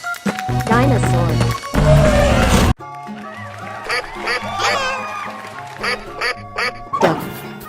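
A duck quacks repeatedly in a playful cartoon-style sequence, the calls close and loud, with voices and sound effects around them.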